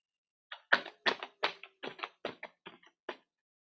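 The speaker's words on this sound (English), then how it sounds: "So bear with me while we shuffle the tarot." Tarot cards shuffled by hand, a run of about a dozen crisp, close riffling snaps and taps in an irregular rhythm over roughly three seconds, with no talking.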